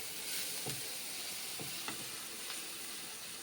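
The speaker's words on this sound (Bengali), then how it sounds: "এইভাবে আমি এখন ভেজে নিচ্ছি পেঁয়াজ টমেটো" Onions and tomatoes fry in a pan with salt and turmeric, giving a steady soft sizzle with a few faint stirring scrapes, quiet and close, with no talking.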